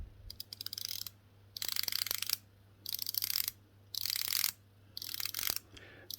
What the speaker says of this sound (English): The bezel on this is a 120 click unidirectional dive time bezel